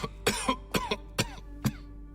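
Coughing from a character in the video game Arctic Awakening: about five sharp, close coughs in an uneven rhythm, each with a short raspy tail, over a low steady hum.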